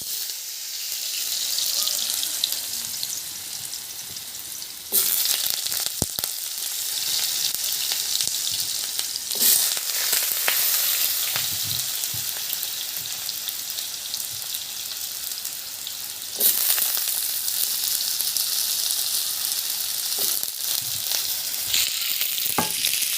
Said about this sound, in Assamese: এতিয়া আমি কাটি থোৱা আলুখিনি অকণমান ভাজি ল'ম।